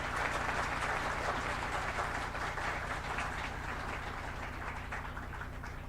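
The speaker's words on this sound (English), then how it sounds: "Ladies and gentlemen, I want a huge round of applause for them." Audience at a moot court prize distribution ceremony applauding the volunteers: dense, sustained clapping from a large crowd, steady and fairly full, slowly tapering slightly, over a low electrical hum.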